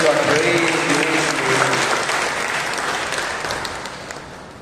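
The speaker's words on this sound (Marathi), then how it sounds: "जोरदार टाळ्या देऊन प्रभूला गौरव देऊया." A church congregation at a Catholic service breaks into loud, dense applause that gradually fades out over several seconds.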